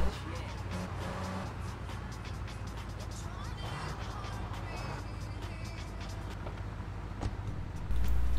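Car engine in GTA 3 Definitive Edition, droning steadily as the car drives through the city and pulls into a parking marker, with traffic and game noise around it and talk over it.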